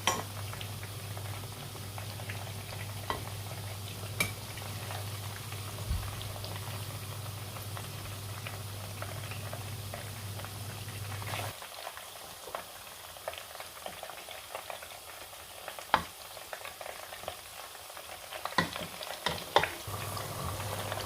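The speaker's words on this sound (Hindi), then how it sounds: "कोफ्ते जो है वो फ्राई हो चुके हैं।" Potato kofta balls bubble and sizzle in hot oil in a steady, even patter. A low hum runs under the first half, then the frying continues alone with scattered small crackles.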